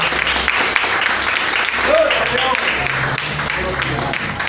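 Applause from a church congregation, steady clapping with voices speaking and calling out over it throughout, fairly close and loud.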